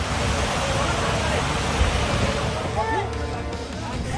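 A river swollen by heavy rain in Kathua during a flood, rushing in a dense, constant roar that carries on without a break from start to finish.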